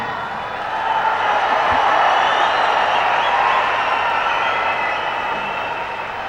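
Sustained applause from an audience at a Tamil film event, a broad steady wash of clapping and crowd noise that swells early and holds through to the end.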